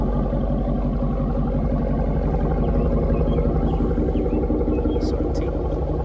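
A Jeep Grand Cherokee SRT fitted with an AWE Touring exhaust runs nearby with a constant low, burbling engine drone that never changes pitch or volume.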